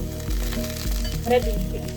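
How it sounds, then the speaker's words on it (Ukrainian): Fish fries in a dry non-stick pan, giving a steady close sizzle with faint crackles and a few soft scraping touches throughout. "І викладаю на сковорідку те, що я збираюся на ній приготувати."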